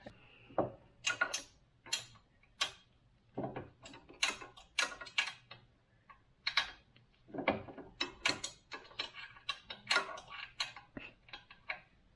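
An Allen wrench ratchets and clicks against the bolts of a Max Mount passenger seat on a Can-Am Ryker 900 ACE, producing short, sharp metallic ticks in uneven bursts at close range.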